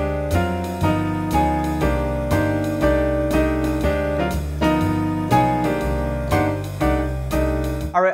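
Jazz piano plays large, open quartal voicings built mainly from fourths in a steady flowing rhythm, rich and fairly loud, with no voices.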